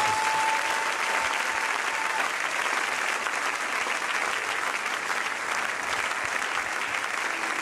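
A church congregation applauds to acclaim the Holy Spirit, a full, sustained wash of clapping from many hands that stays steady and loud for several seconds, with a brief tone faintly audible beneath.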